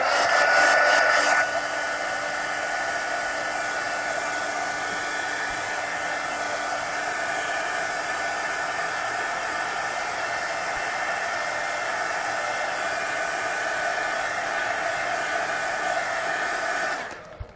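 A hair dryer blows steadily on a painted mixed-media napkin journal page, a loud continuous whoosh running close and unbroken for about sixteen seconds before cutting off.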